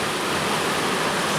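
Water sprays and streams steadily onto a bus inside an automated washer at a depot, a dense, even hiss like a downpour, loud and close throughout with no voices.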